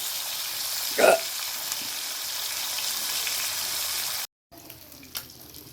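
A fish head fries in hot oil as fish curry is prepared, with a brief louder sizzling burst near the start and then a low steady hiss. A short gap follows, then faint kitchen noise.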